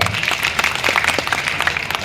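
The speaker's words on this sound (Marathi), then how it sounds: "तर पहिले साठी एकदा टाळ्या वाजवा" An audience claps at a farmers' rights rally, producing a brief, fairly loud burst of crowd applause with scattered, overlapping hand claps and no voices.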